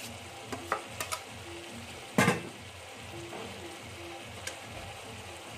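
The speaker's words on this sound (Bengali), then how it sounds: "আদা রসুন বাটাটা দিয়ে দেবো।" Ginger garlic paste sizzling and frying steadily in a pan for chicken kosha, with occasional stirring clinks and one louder scrape of the spoon against the pan.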